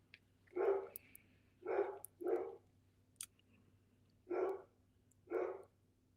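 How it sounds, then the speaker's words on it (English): Two dogs, Captain and Casper, bark at the door after the doorbell rings: five short, fairly close barks in an uneven rhythm, with a few faint clicks in between over a quiet room hum. "now he barks at everybody"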